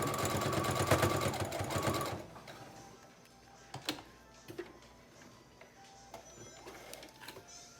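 A sewing machine rattles rapidly and close by for about two seconds, stitching through thick pleated mask fabric with a size 14 needle, then stops, followed by soft scattered clicks and handling noises.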